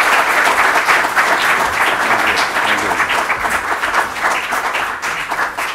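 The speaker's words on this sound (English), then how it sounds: "So with a round of applause, let's welcome Tony." An audience at a community update event gives a sustained round of applause to welcome a speaker, a dense, even clatter of many clapping hands that fades slightly toward the end.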